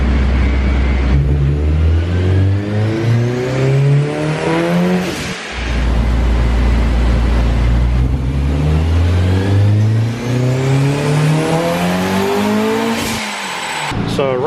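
Mugen Honda Civic Si engine on a dyno, tuned on wastegate only, revving loudly through two long rising pulls with climbing harmonics, each ending in a sharp drop and a brief pause before it winds up again.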